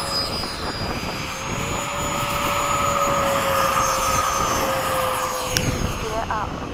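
Steady, loud roar of a military jet during takeoff heard from inside the aircraft, a sustained engine drone with a whining tone throughout; no voices in the moment.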